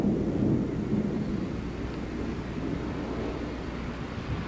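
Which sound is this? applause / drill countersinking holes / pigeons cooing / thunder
thunder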